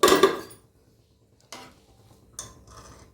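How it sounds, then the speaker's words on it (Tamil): A pressure cooker of black chickpeas having its whistle weight pulled off and its lid opened: a loud metallic clatter, then two fainter clanks of metal separated by quiet. "விசிலை எடுத்துட்டு நம்ம இதை வந்து ஓப்பன் பண்ணுவோம்."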